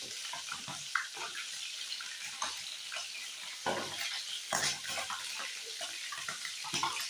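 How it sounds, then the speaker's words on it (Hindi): Fish fries in oil in a pan over a low flame for a dhaba-style fish curry, giving a steady, dense sizzling hiss with occasional louder crackling bursts, close by and without talk. "जितनी देर हमारी फ़िश यहाँ पे फ्राई हो रही है"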